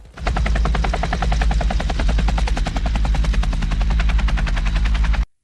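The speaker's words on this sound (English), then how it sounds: "Before long, a helicopter arrived to pick them up." A military helicopter arrives for a pickup, its loud, steady rotor chop pulsing rapidly and evenly up close for about five seconds before cutting off abruptly.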